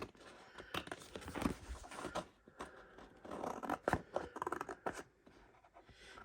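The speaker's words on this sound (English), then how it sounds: "so I'm going to cut these out real quick." Scissors snip through paper letters cut out for a congratulations card, a run of close, crisp cuts with rustling paper between them, no talking over it.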